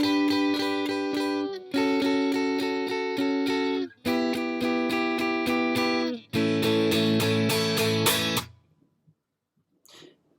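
Guitar strumming the chords of a song, four bursts of bright, sustained strummed chords with short gaps between, ending abruptly into near silence with a faint scrape.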